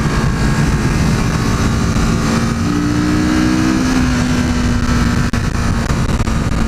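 A Kawasaki Z650 on a test ride gives a loud, steady engine drone mixed with heavy wind rush, the pitch rising slightly partway through, with a brief dropout near the end.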